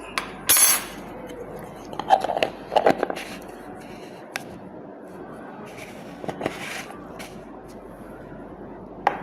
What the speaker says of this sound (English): So I'll take a spatula full